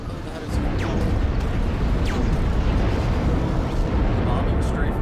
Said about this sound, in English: Bombing strafe, bombing runs, that was so cool to watch.